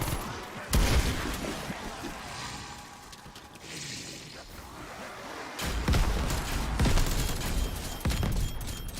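Upgraded pistol firing in Cold War Zombies, loud bursts of shots with heavy recoil, the clusters separated by quieter stretches, someone talking over the game.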